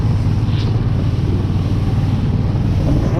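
An Uragan all-terrain vehicle drives along with a loud, steady low engine drone and heavy wind rumble against the microphone, constant and close throughout.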